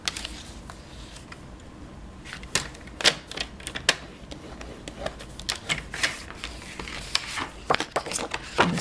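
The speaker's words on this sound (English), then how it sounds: "let's grab our paper trimmer first. Okay, so on our Flirty Flamingo piece, we're going to score this in half at 5 1/2." Paper cardstock is scored on a paper trimmer, giving a run of sharp, irregular clicks and scraping strokes up close at moderate volume, with no talking.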